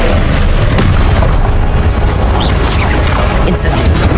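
An Incendio fire spell blasting in Hogwarts Legacy, a loud, continuous roaring burst of booming fire and crashing effects that fills the whole stretch without letup.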